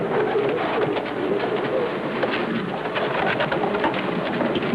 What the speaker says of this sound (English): An untrained pigeon behaves naturally.